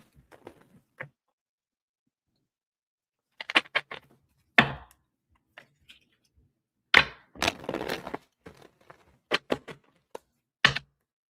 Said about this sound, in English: Let me get a good shuffle for you.